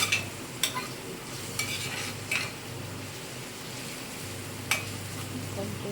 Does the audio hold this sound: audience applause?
no